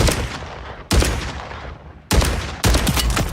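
Gunfire in the video game Warzone, several sharp, loud rapid bursts separated by short gaps, each trailing into a decaying echo, with no talking.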